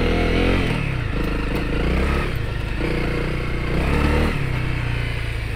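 A Honda CRF250L dual-sport motorcycle rides a wooded dirt trail, its engine loud and close, revving up and easing off in repeated surges with rattles and scrapes from the rough ground.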